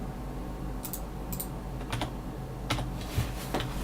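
Typing on a computer keyboard during a card game draft, heard as sparse bursts of quick clicky keystrokes spread unevenly over a constant background hiss, fairly close, with no voices.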